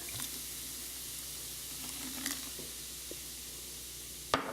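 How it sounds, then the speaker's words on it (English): Beer poured into a cooking roux for Cajun mac and cheese hisses in a steady, soft sizzle, broken by a few faint clinks and a sharp knock near the end. "now we get to add the fun part, the beer"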